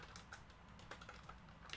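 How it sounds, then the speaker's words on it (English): Touch typing on a computer keyboard, a faint run of soft, uneven key clicks close by, with no talking. "Yes, I'm touch typing."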